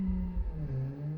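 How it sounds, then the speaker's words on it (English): Simulated car engine in the BeamNG driving game, somewhat muted yet loud, holding a steady low drone with slight pitch wavering, no voices over it. "Engine is a bit more muted, but still quite loud"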